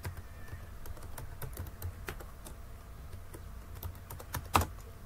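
Typing on a computer keyboard while building MySQL database tables: steady, irregular close key clicks, with one sharper, louder tap near the end and no talk.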